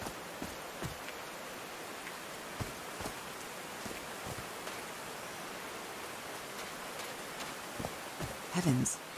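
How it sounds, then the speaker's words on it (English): Rain falls steadily in the video game Call of the Sea, a soft continuous hiss with scattered louder drops and a brief voice near the end. "These drops of rain are so refreshing."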